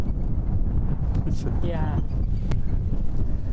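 Wind buffets a boat out on a lake, a steady rough rush of wind noise and water throughout, with a person briefly speaking over it.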